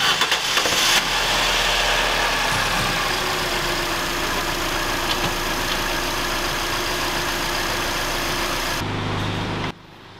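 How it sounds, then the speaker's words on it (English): Car engine idling steadily during an oil change as flushing oil is run through it with the old filter removed; a loud, continuous mid-low drone that cuts off near the end. "let's flush the engine with flushing oil."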